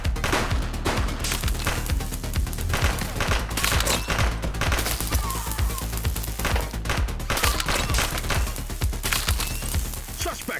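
A shooting suspect in The Precinct fires a long, unbroken fusillade of gunshots, loud and close, with rapid cracks overlapping without pause.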